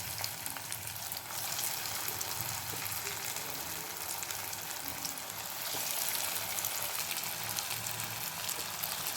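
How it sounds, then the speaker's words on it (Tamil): Bread-coated egg deep frying in hot oil, a steady dense sizzle and crackle that holds for the whole stretch with no talking, growing slightly louder partway through. "இப்போது இதை எண்ணெயில் போட்டு பொரிச்செடுக்கணும்"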